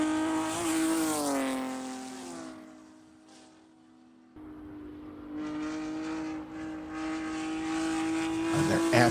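Porsche Cup race cars at Buttonwillow blip their throttles, the engine notes rising and falling in sharp bursts, then dropping away before a loud engine howl returns, with a commentator talking over the top.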